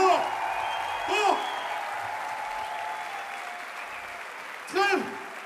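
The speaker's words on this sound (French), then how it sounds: "On les applaudit bien fort, que ce soit Navi ou Arabic Flavor." A crowd at a 3 vs 3 breakdance final applauds the two crews, a steady wash of clapping throughout while a voice speaks over it with brief bursts of sound.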